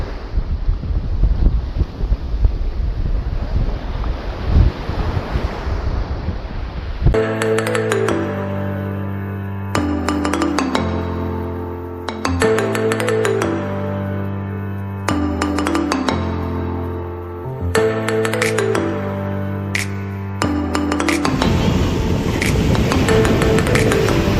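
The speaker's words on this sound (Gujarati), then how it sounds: "આટલો પવન આવે છે" Strong wind at Rangbai beach in Porbandar buffets the microphone with a loud, roaring rush for several seconds, then continues under a loud stretch of rhythmic music.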